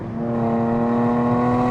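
A Mercedes-AMG C43 engine with larger turbos, running in Sport Plus mode, drones steadily and close by with a faint swell in loudness and no talking over it.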